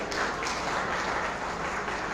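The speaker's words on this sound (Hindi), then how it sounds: "जोरदार तालियां।" Steady, sustained applause from a large crowd at a school talent award ceremony, a continuous wash of clapping heard from some distance and moderately quiet.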